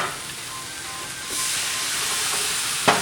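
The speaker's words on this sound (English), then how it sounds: "I'm gonna throw water in there and the steam should like loosen up the bits from the bottom." Water poured into a very hot pan after cooking chicken tikka masala, bursting into a loud, steady hiss of steam and sizzle that continues and ends with a brief sharp spurt.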